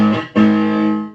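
Three-string cigar box guitar played through an amp with the gain turned up, two distorted chords ringing out, the second struck hard and sustaining loudly as it slowly fades.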